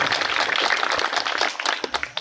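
Audience applause for a poet on stage at a Hindi poetry gathering, a dense steady crackle of many hands clapping at moderate distance, thinning slightly toward the end.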